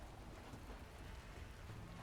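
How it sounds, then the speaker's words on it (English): Steady rain falls in the video game Sniper Elite, a dense, even hiss of drops at moderate level with a low rumble beneath. No voices are heard. "I know it's raining"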